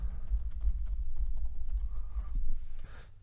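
Steady clatter of keys on a computer keyboard while renaming a Photoshop layer, close and continuous for about three seconds, with dense rapid taps that thin out near the end.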